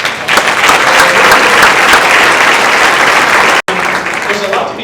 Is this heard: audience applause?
yes